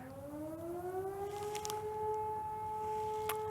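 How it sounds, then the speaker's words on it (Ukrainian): An air raid siren wails steadily, its tone rising and then holding at a high sustained pitch, with faint background noise and no talking. "І сьогодні цілий день сирени."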